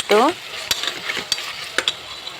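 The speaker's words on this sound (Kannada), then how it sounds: "ಹಾಕ್ಕೊಂಡು ಒಂದೆರಡು ನಿಮಿಷ ಫ್ರೈ ಮಾಡೋಣ" Chopped onion and tomato frying in a pan for tomato bath, a steady sizzle broken by several sharp stirring clinks of a spoon against the pan, with a brief voice sound at the start.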